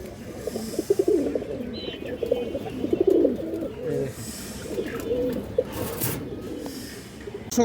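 Several pigeons coo continuously at a pigeon sale where a white female pigeon is shown, their overlapping throaty calls close and steady over a busy background.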